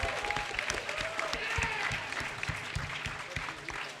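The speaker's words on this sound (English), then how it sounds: "Give yourselves a round of applause." Audience applause at a Bronycon 2013 convention panel: dense, steady clapping from a large crowd fills the whole stretch, with faint voices mixed underneath.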